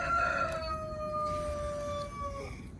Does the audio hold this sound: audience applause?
no